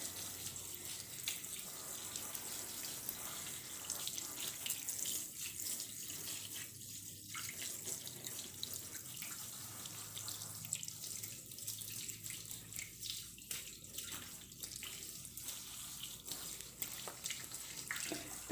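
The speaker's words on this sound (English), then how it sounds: "And I'll get the water turned on, give him a quick rinse." A faucet runs steadily to rinse a long-haired cat during a bath, giving a soft, continuous stream of splashing water heard alone at low volume.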